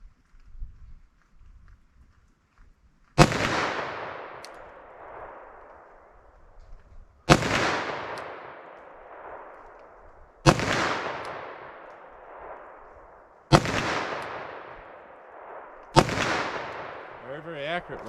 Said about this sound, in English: So let's see what I can do with this 10 millimeter. I'll do 5 rounds of each.